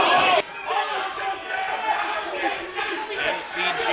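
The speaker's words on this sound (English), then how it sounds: "you can hear this crowd here tonight cheering on that hard work that he put in to make a name for himself." At a live professional wrestling event, the arena crowd roars and cheers in a continuous wash of noise while a commentator talks over it in the foreground.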